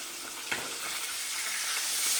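Fish frying in a pan gives a dense, continuous sizzle that holds close and steady, swelling slightly toward the end, with a faint stir or bump early on.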